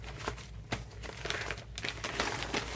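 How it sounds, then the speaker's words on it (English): A large plastic storage bag from a dollar store crinkles as craft pieces are packed into it, giving close, busy rustles and sharp crackles in irregular bursts. "I'm going to put all that back into that plastic bag that I got from Dollar Tree."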